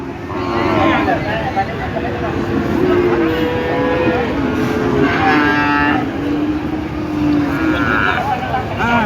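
Sahiwal heifer mooing at a busy cow market, several long drawn-out moos rising over a loud constant crowd and engine din.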